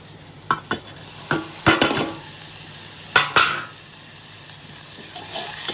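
Onion and tomato cooking in a pan for paneer bhurji: a soft, steady sizzle broken by several sharp scraping clacks of a spatula stirring against the pan, close by, with no talking.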